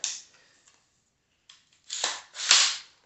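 An AR9 carbine being cleared, with a few sharp metallic clacks and slides of the action spaced over a few seconds, close and fairly loud with quiet gaps between.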